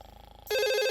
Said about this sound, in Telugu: ఏ టైంలో ఎవరు ఫోన్ చేసేది?